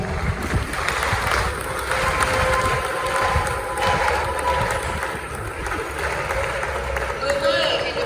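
Applause from a large crowd at a memorial mass in the DR Congo, a steady wash of clapping with a faint murmur of voices underneath, lasting throughout.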